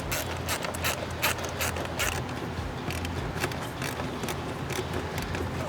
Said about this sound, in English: we're going to be using a 7mm socket, loosen the 2 clamps, and remove the upper intake tube